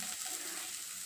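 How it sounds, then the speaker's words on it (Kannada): A steady, bright sizzle of ginger, garlic and onion frying in a pan, close up and even, lasting only a moment with no voices. "ಎಲ್ಲ ಸ್ವಲ್ಪ ಫ್ರೈ ಮಾಡ್ಕೊಳ್ಳೋಣ"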